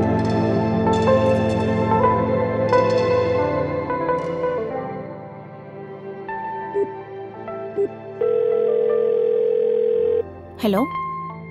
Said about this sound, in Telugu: ఫోన్ చేస్తే నాట్ రీచబుల్ వస్తుంది.